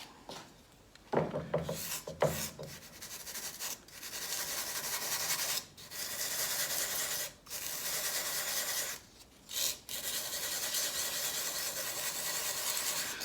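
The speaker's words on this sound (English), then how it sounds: "The rubbing of this compound, rubbing it around like this" Filler compound rubbed by hand into pallet wood, a continuous close, scratchy rubbing that keeps going in long strokes with several brief pauses, loud and alone.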